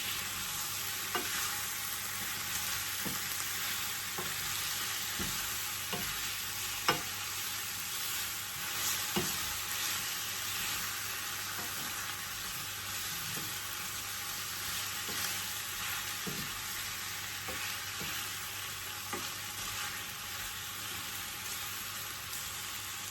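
Chicken tinola ingredients sizzle in a pot as they are stirred, with a constant frying hiss broken by irregular soft clicks and scrapes of the utensil over more than twenty seconds.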